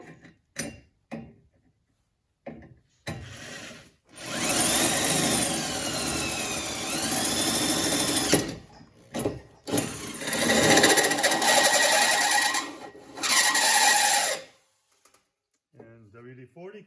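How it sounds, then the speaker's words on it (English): A hole saw cuts into a metal body mount on a Jetta in long, grinding, whining drill bursts separated by pauses, close up, with brief speech around the cuts. "I moved it out so I can get to it with the hole saw"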